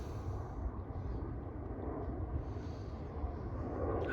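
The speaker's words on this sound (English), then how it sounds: "I think that's a water plane." A water-dropping firefighting plane passes over a wildfire, its engine drone a steady, fairly faint low rumble that holds evenly throughout with no talk.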